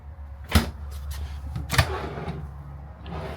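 Drawer latch in a motorhome kitchen snapping into place, two sharp plastic clicks about a second apart, close and fairly loud against a quiet interior.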